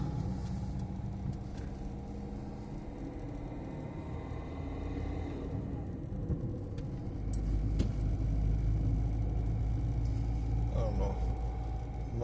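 Steady low road rumble of a car driving on its way to a vehicle inspection, the engine and tyre noise swelling louder in the second half, with no talk over it.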